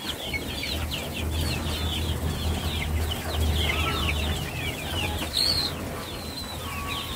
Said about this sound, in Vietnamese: Đây lứa gà trong chuồng này.